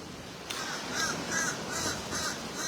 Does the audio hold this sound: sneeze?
no